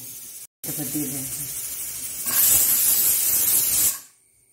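A pressure cooker cooking rice in thin coconut milk vents a loud, steady hissing whistle for about two seconds, preceded by a duller bubbling rush, then stops abruptly.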